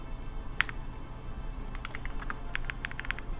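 Sparse keystrokes on a computer keyboard: a single tap, then a quick run of clicks, faint and close over a low background hum.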